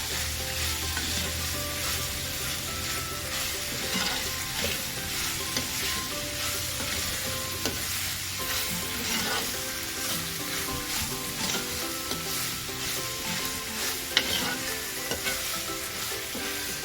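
Spinach being stirred as it cooks in a pan for a traditional buttermilk spinach curry, with a steady sizzle and continuous scraping and stirring throughout, moderately close and without talk.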